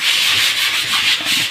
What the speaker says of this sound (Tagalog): Tsaka yan nililihan namin.